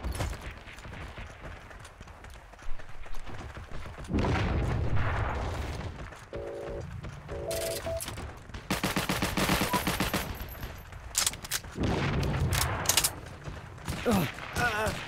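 Bursts of gunfire from the World War II shooter game Heroes & Generals in an infantry battle, loud rapid volleys and single shots scattered through the clip, with background music and engine-like rumble between.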